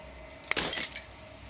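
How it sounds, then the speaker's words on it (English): Glass shatters in the Slay the Princess video game, a single sharp crack followed by a short cascade of tinkling fragments over a low steady hum, with no voices. "As the final fragment of glass shatters"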